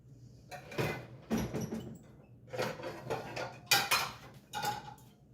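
A wide, flat metal cooking pot is picked up and set down in a kitchen, giving several close clanks and scrapes in irregular bursts with no talking.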